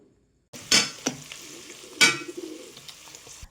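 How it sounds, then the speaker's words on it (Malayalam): Onions sautéed in a pan for chicken curry, with a few distinct stirring scrapes and spatula clatters over a soft sizzle after a brief silence, close and clear with no talking. "ഇതാ സവാള വഴറ്റിക്കൊണ്ടിരിക്കുകയാണ്"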